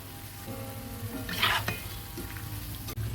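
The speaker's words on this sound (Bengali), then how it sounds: "উল্টে পাল্টে ভেজে নিচ্ছি" Jackfruit fritters made with soaked semolina sizzle in hot oil as they are turned over, a steady close frying crackle with a brief swell of bubbling and a faint utensil clink near the end.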